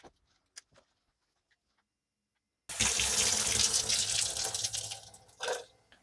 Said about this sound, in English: I'm gonna turn on the hot water